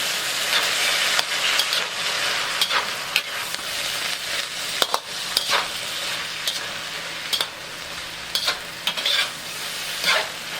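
Char kway teow is stir-fried in a wok, a loud, dense sizzle punctuated by repeated metallic spatula scrapes and clacks as the noodles are tossed.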